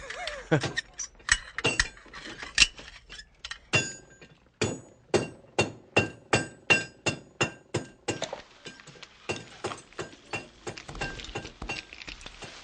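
Metal tools strike and clink in a radio drama scene of mending a pump, a run of sharp, evenly spaced taps and rattles, close and crisp, with no voices.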